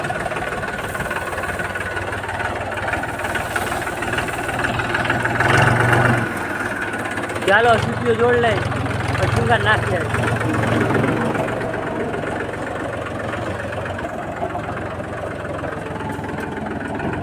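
A tractor engine idles with a steady low rumble on a farm where water is being supplied for irrigation, while people talk over it throughout.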